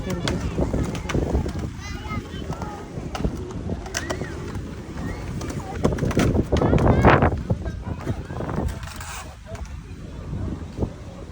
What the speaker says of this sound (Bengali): কি বাতাস দিতেছে বোঝাই যায় না যে গরম